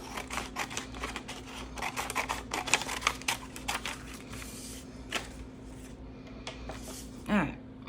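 Sheets of painted collage paper are cut up close by, giving quiet, irregular crisp snips and clicks mixed with soft paper rustling and handling noises.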